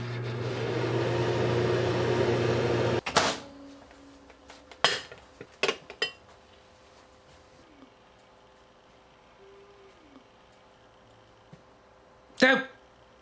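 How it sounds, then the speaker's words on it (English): A microwave oven's steady low hum runs for about three seconds, then cuts off, followed by a few sharp clanks and clicks and a final loud knock. "Back in the microwave."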